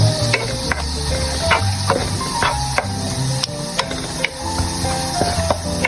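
Garlic and onion sizzle steadily in a pan for a chicken sotanghon soup, with continuous frying crackle and scattered sharp clicks of a utensil stirring, moderately loud and close.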